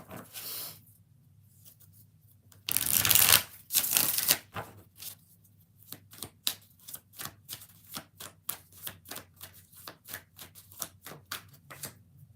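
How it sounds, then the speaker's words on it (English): Tarot cards being shuffled close up on a quiet background, a dense riffle burst followed by a longer run of quick, evenly spaced soft card slaps and taps. "We're going to do 3 shuffles"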